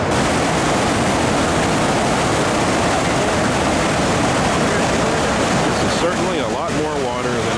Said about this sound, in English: This is the Ocoee, where you put in the white water.